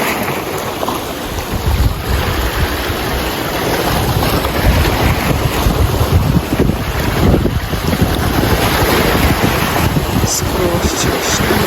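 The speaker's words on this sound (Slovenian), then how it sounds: "se prepuščaš zvokom valov." Sea waves washing against a boat at a seaside spot, heard as loud continuous surf with heavy wind buffeting the microphone, steady throughout with no break.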